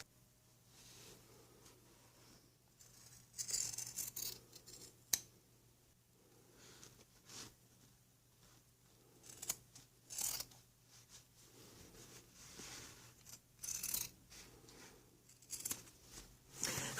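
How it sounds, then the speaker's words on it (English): Scissors cut through the fabric of women's pants along chalk lines, with intermittent bursts of soft close snipping and crunching separated by quiet pauses. "Next thing to do is cut right along those chalk lines."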